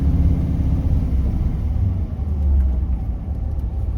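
1955 Ford Fairlane with a rebuilt Holley 4000 carburetor, engine running hot with the radiator fan on, giving a close, steady idling rumble with slight surges.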